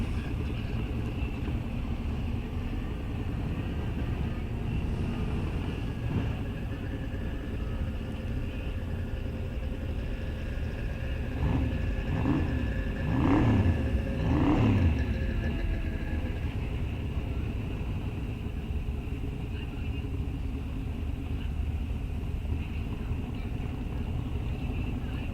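1965 Chevelle Malibu SS drag car at a raceway, a low steady engine rumble throughout with a brief revving flurry in the middle, moderately loud, with background talk.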